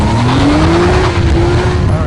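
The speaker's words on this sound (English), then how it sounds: "there's also a really loud exhaust out back" A 2014 Infiniti IPL G Coupe with a loud sport exhaust revving: a rising engine note climbs and holds over a rough exhaust rumble, close and loud, with a voice talking over it.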